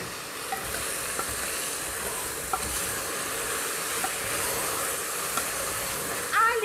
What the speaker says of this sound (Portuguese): Cebola refogada